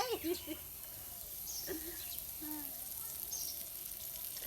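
Oil frying in a hot pan with a steady, faint sizzle running throughout, while voices talk over it near the start.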